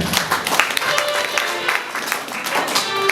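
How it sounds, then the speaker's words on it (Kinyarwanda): A church congregation breaks into loud, lively applause during a preacher's sermon, with uneven bursts of clapping mixed with crowd voices and some tonal background sound. "Wakomera amashyi menshi Imana."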